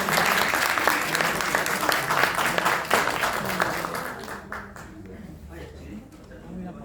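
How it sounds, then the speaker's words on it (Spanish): Audience applause at a talk on the 40-hour work week law: dense clapping fills the first four seconds, then thins and fades to a scattered few claps while voices chatter underneath. "un gran aplauso"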